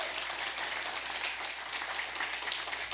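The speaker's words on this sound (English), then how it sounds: "Please give her a round of applause." Audience applause at an awards ceremony for a short story contest, a steady wash of many hands clapping throughout, fairly even and moderately loud with no voices over it.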